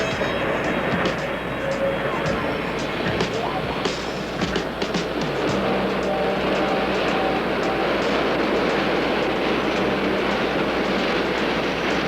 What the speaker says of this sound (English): Film right after the tourist train gets in.